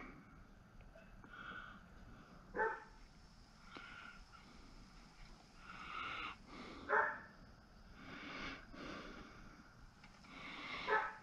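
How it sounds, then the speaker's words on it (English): A neighbor's dog barks outdoors at a moderate distance, several separate yelps spread over the span against a steady background hiss, with no talking. "So the neighbor's dog barking there,"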